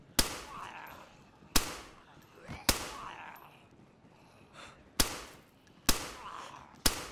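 Single gunshots in the survival game DayZ, about six sharp reports spaced a second or so apart, loud and close, each followed by a short decaying tail with quiet gaps between.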